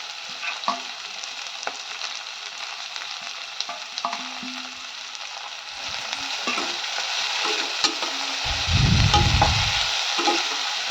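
Chopped bitter gourd with onion and green chilli stir-fried in hot oil, giving a steady close sizzle with occasional scraping stirs, growing louder and more vigorous toward the end.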